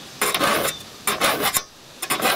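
A hand file rasping across saw teeth to sharpen a saw, three loud close strokes in a steady back-and-forth rhythm, with no talking.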